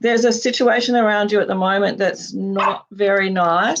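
An excited female dog barks in short bursts indoors, the barks mixed in and partly masked by a person talking continuously in the foreground.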